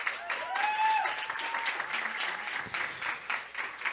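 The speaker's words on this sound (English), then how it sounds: "One more round of applause." An audience at a monologue event applauds, with a steady patter of clapping and a faint voice heard underneath.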